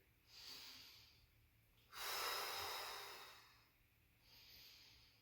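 Slow, steady breaths held during a gentle yoga pose, quiet and close: a soft inhale, a longer, fuller exhale in the middle, then another soft breath, with no talking.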